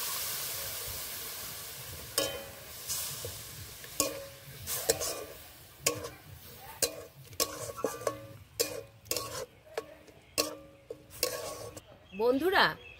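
Liquid milk being stirred into a pan while making rose-shaped pitha, heard as repeated close spoon clinks and scrapes in an uneven rhythm over a soft sizzling hiss.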